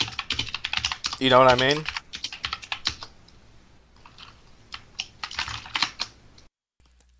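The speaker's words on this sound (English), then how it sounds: "You hear the tickety tacking of his fucking keyboard in the background?" Computer keyboard typing clatters in quick, uneven bursts in the background while someone talks over it, the keys continuing between his phrases before stopping at the end.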